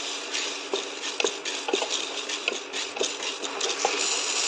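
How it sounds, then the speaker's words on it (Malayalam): Chana dal roasting in a hot pan, a dry continuous rustle and scrape with repeated light clicks of a stirring utensil against the pan, close and alone. "എന്നിട്ട് അതിനെ നല്ലപോലെ വറുക്കണം."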